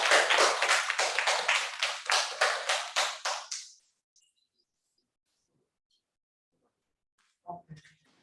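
A church congregation breaks into brisk, rhythmic clapping for a few seconds that stops abruptly, followed by near silence and a faint brief sound at the end.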